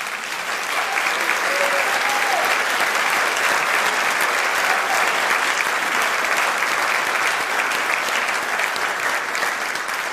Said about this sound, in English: Applause for group number 1.